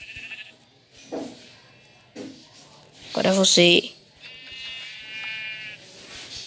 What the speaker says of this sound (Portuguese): Primeiro eu vou matar aqui essas ovelhas.